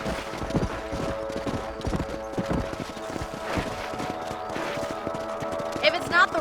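Horses in the video game Red Dead Redemption trot and gallop, their hooves clip-clopping in a steady, fairly close rhythm with game music and a voice heard faintly underneath.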